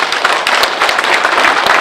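An audience at an association general assembly applauds in welcome, a loud, dense crowd of clapping hands sustained throughout the short burst.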